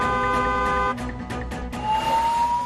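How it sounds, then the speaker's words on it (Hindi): A car horn sounds a sustained, loud, steady blare, then breaks into short toots before a second, rising horn tone carries on over low traffic rumble. "दूसरों को भी सावधान करने के लिए हॉर्न बजाएं।"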